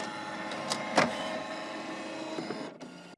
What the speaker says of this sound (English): found the job was underway with some interesting sound effects